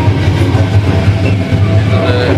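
The Chitra Express rolls along its rails with a loud, steady low rumble and a soft repeating clack of wheels, continuous and close throughout.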